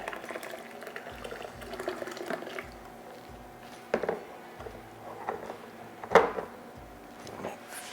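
Hot water poured into a plastic beer fermenter for a kit beer, a soft bubbling, gurgling splash with irregular sloshes and a few sharper clinks, close and fairly quiet.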